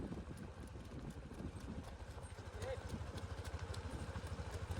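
A mare's hooves beat a steady clip-clop rhythm during a ride near a vehicle, fairly faint under a low engine-like drone, growing more regular and pronounced toward the end.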